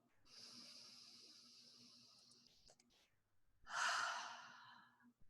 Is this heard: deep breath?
yes